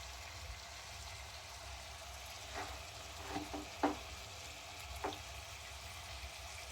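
Ginger garlic paste hits a pan with chopped tomatoes for a prawn biryani, giving a low steady sizzle under a few scraping stirs of a spoon, with no voices.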